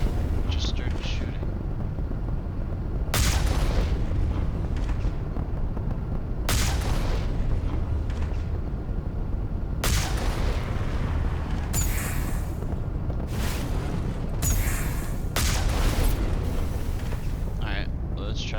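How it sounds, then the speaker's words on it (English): Gunfire and explosions from the Mass Effect video game, with Batarians shooting: repeated loud booming blasts and bursts recur every few seconds over a constant dense rumble of battle noise, with voices speaking throughout. "Batarians are shooting at us"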